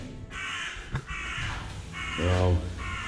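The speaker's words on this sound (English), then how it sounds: "We've got a noisy crow." A crow cawing by a polytunnel, a string of loud rasping caws close by, over a low background rumble with a brief knock.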